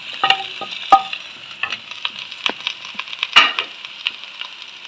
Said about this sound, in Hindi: अब यहाँ पर मैं इसमें भिंडी शामिल कर देती हूँ